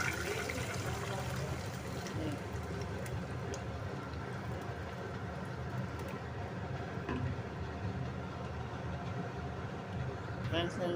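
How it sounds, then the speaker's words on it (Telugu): Water is poured steadily into a cooking pan for a semolina breakfast, a continuous splashing rush that lasts throughout with no pause. "ఇది ఇప్పుడు వాటర్ ఇలా పోగు చేసుకుంటున్నాను అన్నమాట."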